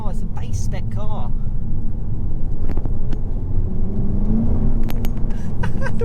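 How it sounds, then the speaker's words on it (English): Front-wheel-drive base-spec Mk3 Audi TT coupe driving on a greasy road, wheels spinning up under a steady low engine and road rumble heard from inside the car, with someone talking over it. "The wheels are just spinning up."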